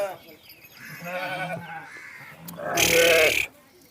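Sheep in a village flock in Jagtial, Telangana bleat nearby, one loud, harsh bleat standing out after softer wavering calls, with a little background noise.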